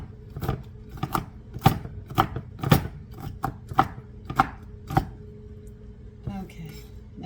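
A knife coarsely chops a pile of mixed nuts for muffins, about a dozen sharp, close knocks on the board in an uneven rhythm, ending in a short rustle.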